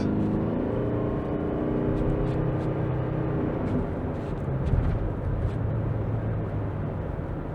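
A Toyota RAV4 Hybrid GXR pulls away from traffic lights with a steady low road rumble and engine hum that builds slightly midway, heard from inside the cabin with no talk.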